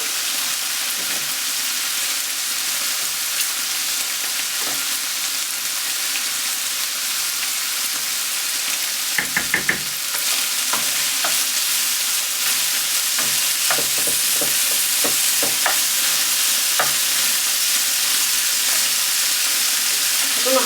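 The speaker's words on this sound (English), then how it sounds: "I don't know how sizzling this is going to be on the camera" Ground beef sizzles steadily in a frying pan for a keto cheeseburger casserole, a close, constant hiss with brief stirring clatters partway through and no talking.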